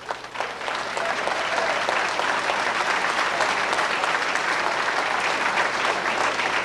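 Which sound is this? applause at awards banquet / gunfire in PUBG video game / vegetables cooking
applause at awards banquet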